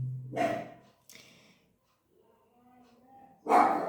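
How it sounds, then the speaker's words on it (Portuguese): A small dog barks indoors in a few short, sharp bursts, close and fairly loud, with quiet gaps between them and faint whimpering or breathing noise in the pauses. "o costelinho resolveu latir"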